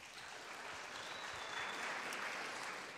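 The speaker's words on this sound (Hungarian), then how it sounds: "Tapsot!" Steady applause from a small crowd at a drawing contest, continuous clapping holding at an even level for a few seconds, with no one speaking over it.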